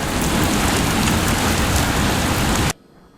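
Loud, dense downpour roars steadily like a thunderstorm deluge during Oklahoma tornado weather, then cuts off abruptly near the end into near silence.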